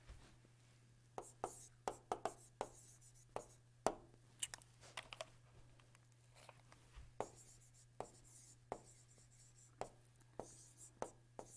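Chalk or marker taps and scratches on a board during an engineering lecture, arriving in irregular bursts of sharp strokes over a steady low hum, with no clear talking.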